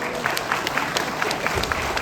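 An indoor audience claps steadily after a speaker at a public talk in Bahrain, a dense wash of hand claps with scattered sharper claps standing out, fairly close and sustained throughout.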